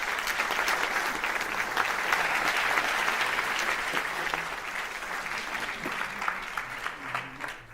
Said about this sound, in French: faire un tonnerre d'applaudissements pour Davy Courteau